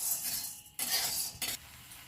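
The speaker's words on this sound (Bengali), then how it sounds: "প্রথমে আমি কড়াইয়ে ছোলার ডালটা নিয়ে নিলাম।" Dry chana dal roasting in a wok: three short bursts of gritty scraping and rustling as a spatula stirs the lentils, fairly quiet and close, with no voices.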